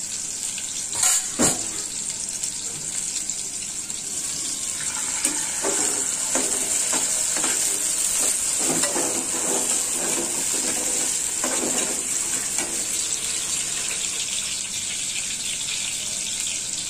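Chopped onions drop into hot oil with a sharp hiss, then fry in a continuous crackling sizzle with occasional stirring scrapes, close and steady for the full stretch.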